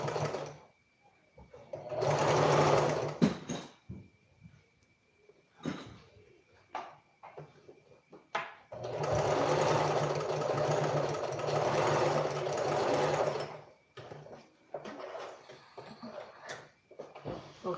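Sewing machine running in two long bursts while stitching an Ankara long skirt, with a steady whirring hum, short pauses and clicks between runs.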